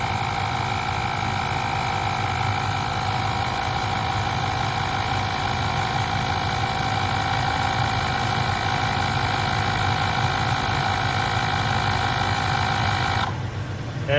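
A 12V portable electric air compressor tire inflator, rated to 150 PSI, runs with a steady buzzing hum through most of the stretch and then abruptly shuts off near the end.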